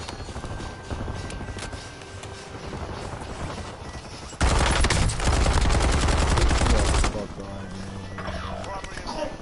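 Gunfire in the shooter game Call of Duty Warzone erupts in a dense, loud burst of rapid shots midway through, framed by quieter game ambience and someone talking before and after.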